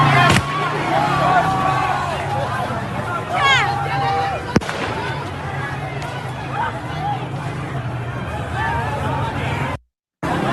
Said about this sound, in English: So those are gunshots.